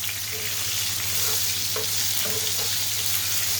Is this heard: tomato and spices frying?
yes